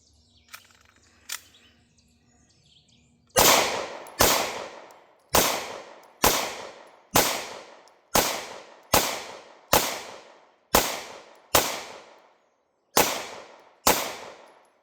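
A Hi-Point C9 pistol fires about a dozen sharp, loud shots at a steady, slightly uneven pace, each crack trailing into a short outdoor echo, after a few quiet seconds of faint background noise.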